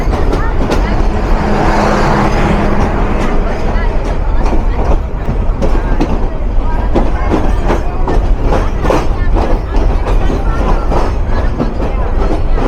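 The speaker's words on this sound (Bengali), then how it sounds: "ননস্টপ বনলতা প্রবেশ করছে।" The nonstop Banalata Express pulling into a station in Bangladesh: a loud, continuous rumble with repeated clickety-clack wheel hits over the rail joints, a close and steady roar throughout, with a voice talking faintly over it.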